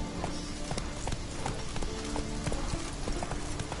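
Hoofbeats of Roach the horse galloping in The Witcher 3, a close and steady clip-clop rhythm that keeps going throughout, with no talking.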